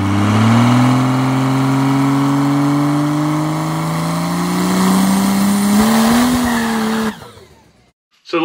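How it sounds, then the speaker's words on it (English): A boosted car holds a burnout against the foot brake, its engine revving high and steady with a rising pitch while the tire squeals loudly and continuously, then it cuts off abruptly near the end. "it needs more power before I let go of the brake to really wick the tire up to get it to maintain that burnout"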